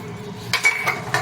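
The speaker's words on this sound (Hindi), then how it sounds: "तब तक बर्तन धो लेती हूँ।" Dishes, pots and utensils being washed by hand clink and knock together, a few sharp metallic taps over a soft background, close and moderately loud.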